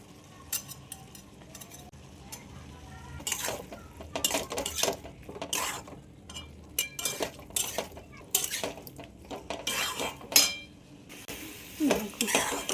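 Fried mixed vegetables with spinach and carrot are stirred in a cooking pan, a run of close metal scrapes and clinks of a spoon over a soft sizzle, coming in uneven bursts.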